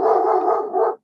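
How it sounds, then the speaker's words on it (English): A single dog barks once, close and loud, in a long drawn-out burst lasting about a second, with no talking over it. "excuse my dog"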